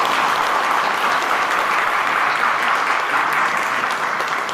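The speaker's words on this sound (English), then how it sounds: "I want to give a round of applause to all the awardees." An awards-ceremony audience gives the awardees a loud, continuous round of applause, a thick wash of clapping that holds evenly from start to finish.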